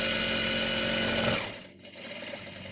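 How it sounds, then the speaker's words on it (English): Sewing machine running fast and steady while stitching binding onto a fabric face mask, a close continuous whir that stops abruptly partway through, leaving quiet handling noise. "So you can sew extremely fast all the way to the end"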